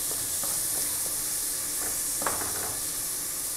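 Rice browning in a Dominican caldero gives a steady soft sizzle and hiss, with a few faint stirring clicks scattered through, quiet and continuous with no talking.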